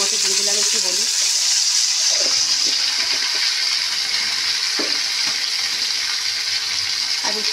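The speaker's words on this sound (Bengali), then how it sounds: "উচ্ছে ভাজতে বসিয়েছি, এর মধ্যে দিয়ে দিলাম একটু হলুদ।" Round-cut bitter gourd slices fry with turmeric in a pan, giving a loud, continuous hissing sizzle that stays steady throughout, with a few faint clinks and a voice briefly at the start.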